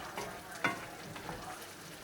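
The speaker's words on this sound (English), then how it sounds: "Give it a stir." Spoon stirring a pot of boiling water with potatoes, soft scraping strokes and a brief louder clank over a quiet bubbling hiss.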